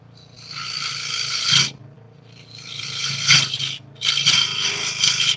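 Scraping rasps of an M2 Cryo bowl gouge cutting into spinning walnut and butternut wood on a lathe, three long close passes with short pauses between them.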